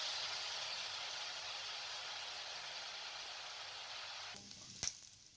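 Chopped garlic sizzling in one to two spoons of hot oil, frying toward light brown for a keema samosa filling; a steady close crackling hiss that briefly drops, then a sharp clink near the end.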